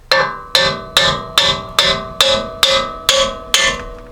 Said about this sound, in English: Now I'm going to take a hammer, just slightly tap on the CV axle